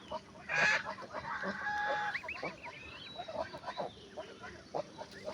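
Ducks and other poultry kept at home cry out in loud, overlapping honks and squawks, with a big burst near the start and scattered calls after it.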